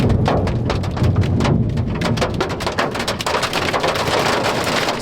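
Hail and heavy rain pelt a 4WD during a North Island storm, a dense, loud, continuous drumming with sharp individual impacts throughout and no voices.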